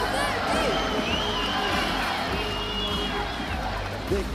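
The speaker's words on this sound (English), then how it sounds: "They're chanting to Kennedy." An excited arena crowd roars and chants for grappler Kennedy Maciel during an AIGA Champions League Finals match, a dense, sustained wall of voices with shouts rising above, and a commentator talking over it.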